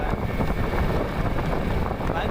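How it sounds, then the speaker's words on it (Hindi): Motorbike riding along a road on a cold day, with steady loud wind buffeting the microphone and a broad rushing roar throughout, no clear speech. "अभी तब भी हम लोग बाइक ड्राइव कर रहे हैं"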